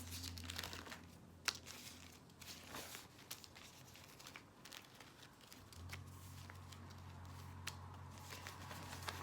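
Sheets of deli paper used for eco-printing with weeds and sweet woodruff rustle and crinkle steadily as they are shuffled and handled, with occasional sharper crackles over a low hum.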